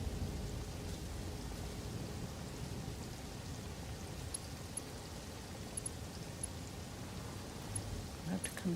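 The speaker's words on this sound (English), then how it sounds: "So it's raining in my game and it's raining outside." Steady rain falling outdoors, a dense even hiss of drops on surfaces with occasional sharper drips, continuous and fairly faint throughout.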